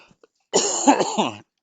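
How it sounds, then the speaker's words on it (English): A single hacking cough, loud and close, with a raspy, throaty burst lasting just under a second after near silence; no talk. "I've got a hacking cough."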